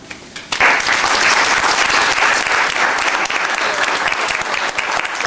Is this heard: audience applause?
yes